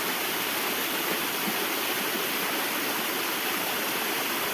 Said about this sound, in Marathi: हे बघा कसं पाणी मस्त आहे वरून